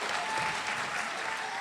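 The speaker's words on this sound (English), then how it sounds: "let's give Lilia another round of applause" An audience at a Metuchen High School brain health event claps together in a sustained, even round of applause that fills the short moment.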